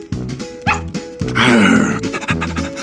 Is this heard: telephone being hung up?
no